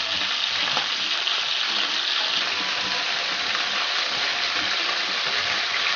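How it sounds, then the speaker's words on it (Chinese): Chicken wings fry in a pan over medium-low heat, giving a steady, close, even sizzle and crackle that holds without pause and has no talk over it. "调中小火，把鸡翅的两面呢都给它煎到金黄。"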